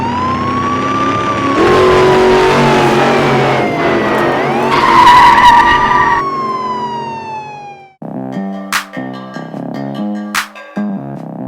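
A Hot Wheels Muscle Tone toy car races down a track in a police chase race, with a loud siren wailing and tire skidding throughout, then a stretch of clattering, tinny tones after a brief drop near the middle.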